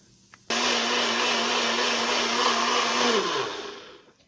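A kitchen blender crushes tomatoes for a Pakistani black-eyed bean dish, switching on abruptly with a loud steady whirring roar for about three seconds before spinning down and fading.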